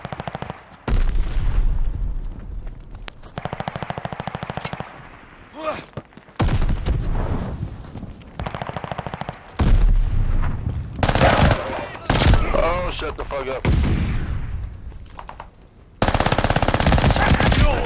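Automatic gunfire from a Call of Duty Vanguard match, with loud bursts of machine-gun fire and explosive shots recurring through the clip, mixed with a player shouting and talking over the game action.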